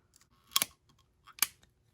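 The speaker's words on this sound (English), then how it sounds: "So we'll take our hose, again, measure the same length out again and cut it." Rubber hose for a 2019 Ford Fiesta purge valve being cut to length, two quick, crisp snips about a second apart against quiet surroundings.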